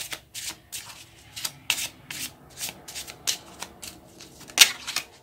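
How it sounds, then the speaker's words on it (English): Lenormand cards being shuffled and drawn by hand, a rapid run of brisk riffling bursts and soft rubbing slides, close and clear with no talk. "now we are going to take a Lenormand card to see the overall feeling of this time"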